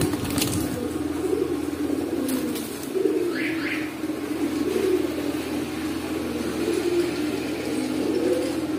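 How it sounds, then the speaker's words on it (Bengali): A pair of white-beaked pigeons sitting on eggs coo softly in a repeated low rhythm over a constant background hum, with a couple of brief sharp chirps. "তো এখানে এক পেয়ার কবুতর আছে ভাই ডিমে বসা, হ্যাঁ এটা সাদা ঠোঁটের জাকচি থাল কবুতর"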